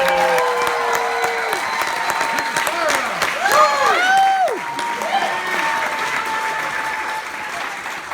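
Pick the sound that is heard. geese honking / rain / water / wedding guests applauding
wedding guests applauding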